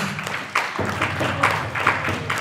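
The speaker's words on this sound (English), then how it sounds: "A round of exclusive" Applause rises for a panel discussion, a dense wash of clapping sustained throughout at moderate volume, with a few louder claps standing out.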